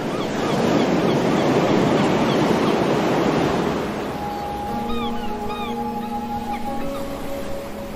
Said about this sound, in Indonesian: aku mendengar lautan Hindia bergelora